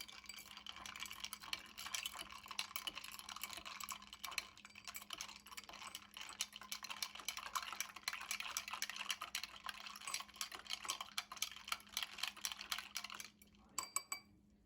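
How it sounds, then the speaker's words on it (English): A spoon stirs an iced matcha green tea latte in a cup holding five or six ice cubes, giving a steady, close rattle and clink of ice against the cup that runs on and then stops, with no talking. "Now we're gonna give this another stir."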